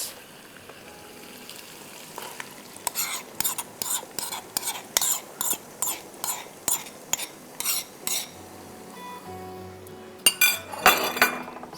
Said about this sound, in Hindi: नमक और हल्दी डाल रही हूँ, और ये 3 ब्लेंडेड टोमेटोज़